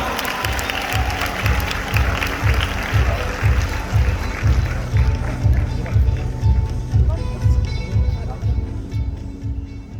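Crowd applause at a Sejong University beauty seminar welcoming the next speaker, with rhythmic unison clapping and thumping under music that fades toward the end.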